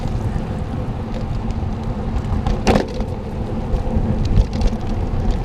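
A commuting bicycle's rear tire strikes a small stick on a rain-wet road, giving one brief sharp crack midway through a steady wash of road, tire and wind noise.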